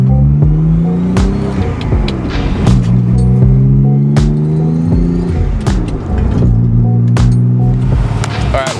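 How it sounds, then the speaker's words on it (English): A twin-turbo Nissan 300ZX with its first aftermarket exhaust drives hard, the loud engine note rising and falling through repeated revs and gear changes, heard from inside the car. "we're gonna enjoy this last drive with the first ever exhaust I put on the 300."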